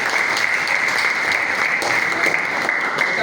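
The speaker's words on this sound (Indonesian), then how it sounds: "Kita kasih aplaus buat" Sustained applause from a classroom audience in a school lesson, a dense, even wash of clapping that holds steady for the whole stretch with no talk over it.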